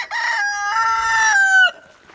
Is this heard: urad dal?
no